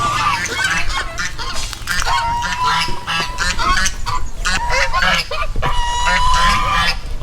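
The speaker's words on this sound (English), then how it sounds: "I think those geese are laughing at those geese because they're in jail and they're not." Caged geese honk loudly and repeatedly at a livestock market in Laos, a dense overlapping chorus of harsh nasal calls filling the whole stretch, close by, with other fowl and faint voices in the background.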